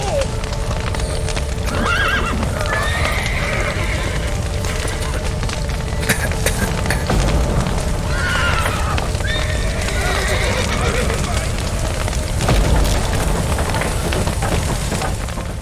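Horses in The Witcher 3 video game whinny and neigh over steady clip-clopping hooves, amid a busy, noisy scene with shouting voices and occasional booms throughout.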